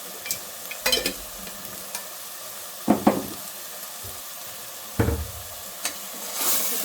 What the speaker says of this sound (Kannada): ಈ ಎಣ್ಣೆ ಫ್ರೈ ಆಗೋದ್ರಿಂದ ಮಸಾಲೆ ಎಣ್ಣೆ ಅಂತ ನೆಕ್ಸ್ಟ್ ಆಗುತ್ತೆ